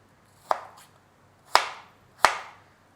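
Knife cutting through fruit peel on a cutting board, three crisp separate chops spaced about a second apart, close and clear in an otherwise quiet room.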